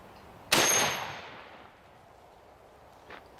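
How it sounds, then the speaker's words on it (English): A single loud gunshot from a Henry 45-70 Government rifle firing a 400-grain bullet at a titanium target, a sharp crack that decays slowly into a ringing tail, followed by a faint distant impact about two and a half seconds later. "It's my Henry 4570 Government. Shoots this huge 400 grain bullet."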